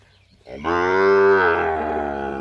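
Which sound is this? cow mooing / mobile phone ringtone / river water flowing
cow mooing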